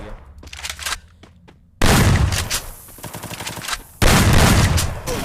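Shotgun blasts in a Free Fire 1v1 match, an M10 among the weapons, with loud booming shots in bursts: a sharp cluster of blasts, a pause, then two heavy volleys close and loud, trailing into reverberant echo.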